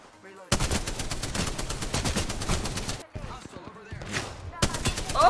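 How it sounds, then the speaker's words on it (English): Kraber sniper rifle in Apex Legends, a battle royale video game, loud, dense volleys of gunfire running through most of the stretch, with a brief pause and then more shots and a whizzing pass near the end. No talking. "Kraber whizzing past my head"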